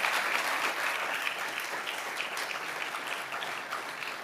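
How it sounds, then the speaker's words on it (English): Steady applause from an audience at a university foundation gift announcement fills the space, a dense wash of clapping that holds at an even level from start to finish. "You should clap for that."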